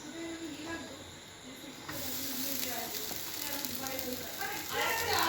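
Biryani reheating in a pan gives a soft, quiet sizzling hiss that grows fuller after a hushed start, with faint voices in the background.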